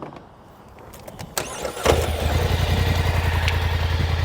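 A 2024 Polaris Highlifter 850 UTV engine cranks with a few short clicks and whirs, catches with a sharp burst, then settles into a steady, rumbling idle nearby.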